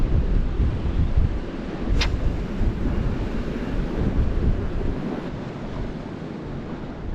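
Wind gusting over open water during lure fishing for bass, a loud, rough, continuous roar buffeting the microphone, with a brief sharp tick partway through and no talking.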